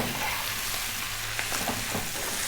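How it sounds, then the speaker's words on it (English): Spinach fries and sizzles in a pan while being stirred, a steady close hiss with soft scraping and shuffling movements throughout. "stirring the spinach in, and it will obviously reduce down as it cooks"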